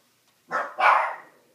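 A dog barks twice in a row, close by, the second bark stronger and trailing off; no other sound around.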